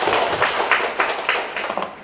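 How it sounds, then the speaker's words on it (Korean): A small classroom audience at a real-estate law lecture gives a brief burst of hand clapping, several uneven claps over about two seconds, fairly close and alone. "박수 한번 쳐주시고."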